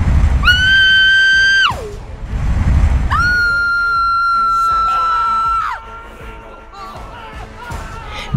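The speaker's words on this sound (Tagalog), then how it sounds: "Biglang sumiklab ang sunod-sunod na sigaw ng mga tao sa baryo" Villagers screaming at night while huts burn in a village: long, loud, high-pitched wailing screams rise, hold and drop in two main drawn-out cries, followed by fainter overlapping shouts.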